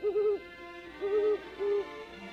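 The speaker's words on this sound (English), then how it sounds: "heard their spooky hooting echoing through the dark and lonely night" An owl hoots at night in the wild, three quiet wavering calls spaced about a second apart, alone against a still, dark background.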